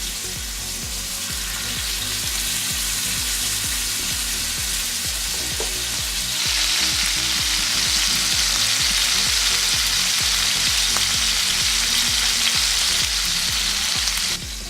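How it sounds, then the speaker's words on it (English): A New York strip steak sizzles loudly and steadily in a hot pan, a dense crackling hiss that swells a little louder midway and continues without pause. "Hear that sizzle."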